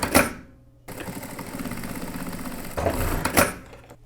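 Sewing machine stitching the hem of 1990s-style denim jeans, a continuous close mechanical whir with rapid needle chatter running for a few seconds, bracketed by brief clunks at start and end.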